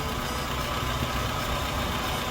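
A steady, even engine idle from a 1998 Honda City Type S automatic, a constant low rumble with no changes in pitch, running smoothly and quietly throughout with no voices.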